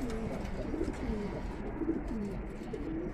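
About sixteen pigeons coo in low, repeated throaty calls, several birds overlapping steadily against a soft background hum.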